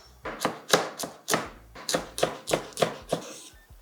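Ginger minced on a cutting board, a close run of about ten crisp, rhythmic knife chops at a brisk, even pace.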